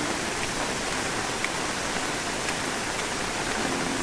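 A swollen river in flood after heavy rain in Devgad, Sindhudurg, rushes and roars as a steady, unbroken broadband noise, close and loud like a waterfall, with no voices.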